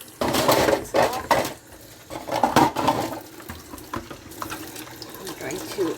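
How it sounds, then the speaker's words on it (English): Tap water runs into a kitchen sink in uneven splashing gushes as gadget parts are rinsed under the stream, close and fairly loud with intermittent bursts. "now I'm going to rinse it off"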